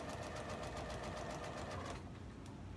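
A sewing machine running a straight stitch along the short end of a fabric cuff, a steady rapid mechanical whir with even needle ticks, close and continuous, easing slightly near the end.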